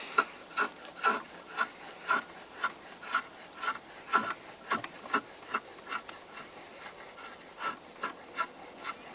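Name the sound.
carving wooden paddle shaft with craft knife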